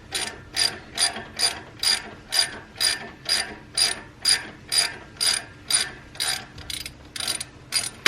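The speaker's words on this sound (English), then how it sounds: "I just need to unbolt these bolts off of the headers" A ratchet wrench unbolts exhaust header bolts on a 1968 Ford Mustang Fastback, with a steady run of about fifteen evenly spaced ratcheting strokes, loud and close, and no voices.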